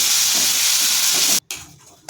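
Amla paste hits hot oil with fried whole garlic and nigella seeds, giving a loud, steady sizzling hiss that cuts off abruptly, then resumes more quietly.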